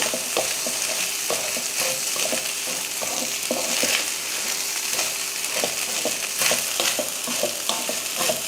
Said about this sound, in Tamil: இப்போ இதில் வெள்ளச்சோரை சேர்த்துடலாம் சேர்த்துட்டு நல்லா கலந்துருவோம்